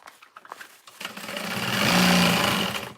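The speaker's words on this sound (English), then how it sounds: "I do like the way it sews, and I love the bobbin winder on it." A heavy-duty domestic sewing machine stitches fold-over bags in a fast, steady whir that swells and holds for a couple of seconds after some quiet handling noises.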